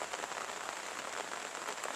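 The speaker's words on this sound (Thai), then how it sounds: "บรรยากาศฝนลินนี่แหละ" Light, persistent drizzle coming down across open farmland, producing a constant gentle patter and hiss of small drops close by, uniform in intensity throughout and free of speech.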